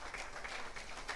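A church congregation applauding at a Sunday service, a short burst of steady, fairly quiet clapping from many hands with no voices.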